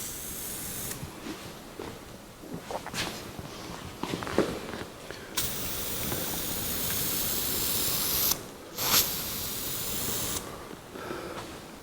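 A spray gun lays down the first of five coats of clear on a 1982 Jeep CJ7 tub, giving a steady close hiss in bursts with short pauses, plus some shuffling movement around the work.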